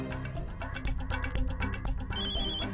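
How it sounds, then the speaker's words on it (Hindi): Electronic phone ringtone chiming indoors, a fast run of repeated bright tones in a tight rhythm, clear and fairly close with little else around it. "फोन आया।"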